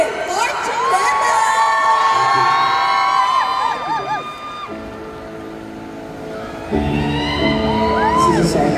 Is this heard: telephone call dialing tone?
no